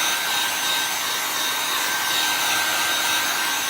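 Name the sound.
heavy-duty dryer drying chalk paste on a hexagon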